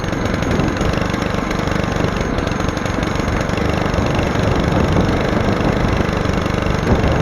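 Phatmoto gas bike engine held at full throttle, a loud, steady, buzzing small-engine drone running continuously throughout without letup.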